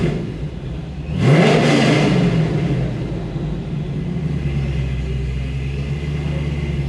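A supercharged 2007 Corvette C6 LS2 V8 at idle is revved hard once, surging loud with a rising roar, then dropping back to a steady low rumble.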